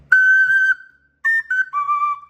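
A Sicilian friscaletto cane flute plays a short phrase of clear, breathy whistle-like notes: one long held tone, a brief pause, then a few shorter stepping notes, close and alone with no voices.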